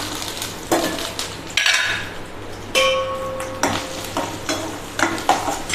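Small pieces of peeled coconut frying in hot oil in a pan, with a steady sizzle broken by repeated stirring, scraping and clinks of a utensil against the metal.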